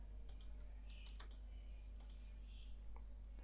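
Several sharp computer mouse clicks, quiet and close, scattered over a steady low hum, as when operating NX12 CAD software.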